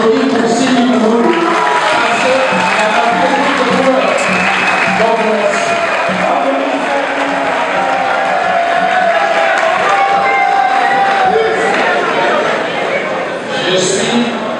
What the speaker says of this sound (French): je vous prie de pouvoir applaudir pour Sylvie Mourou.